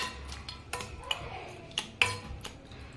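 A ladle stirs amaranth leaf dal in a pot, giving a few light metallic taps and scrapes against the rim over a low steady hum, close and fairly quiet, with no voice.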